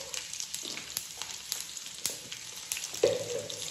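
Cumin seeds crackle in hot oil, a quiet sizzle broken by scattered sharp pops, with a louder burst of frying near the end, no voices.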